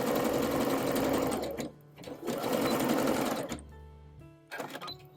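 Overlocker or zigzag stitching along knit dress facing shoulder seams, two long loud whirring runs of the machine with brief stops and a short final burst.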